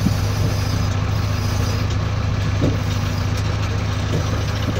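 A JCB backhoe loader's diesel engine runs steadily at close range, a constant low rumbling idle with faint knocks and no breaks, and nobody talks over it.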